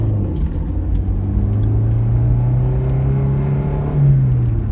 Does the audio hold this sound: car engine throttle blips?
yes